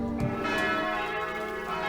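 A church bell rings at noon in Teisendorf, a rich sustained peal with strong hum tones, steady and fairly loud throughout with no talking.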